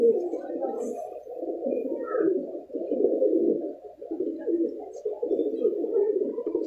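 A pigeon coos continuously up close, its low throaty warbling rising and falling without pause.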